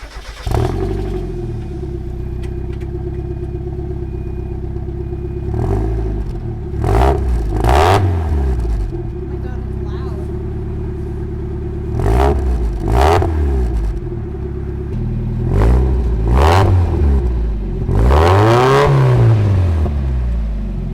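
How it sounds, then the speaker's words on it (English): A Mazda Miata fitted with a new exhaust idles with a deep, steady burble, then revs sharply in repeated bursts that climb and fall back, the last blip the longest and loudest, close by and alone without voices. "start the car up, and let's hear what it sounds like"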